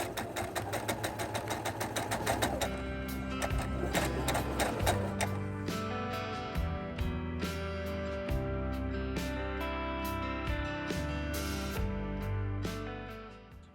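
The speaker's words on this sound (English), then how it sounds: "when I sew this, I'm going to sew 1 inch around all the sides except for the bottom." A sewing machine stitches pillow fabric for a fall and Halloween DIY pillow, a steady mechanical whirring that runs almost without break through the whole stretch, close and fairly loud, with no talking.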